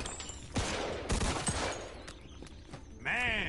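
Gunfire in the Mafia 2 video game, with scattered sharp shots and a fusillade of bursts at moderate loudness, ending in a wavering, rising whine.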